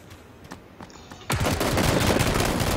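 Rapid automatic gunfire in a video game opens up loud and continuous after a quieter, near-silent start, with dense bursts of shots running to the end.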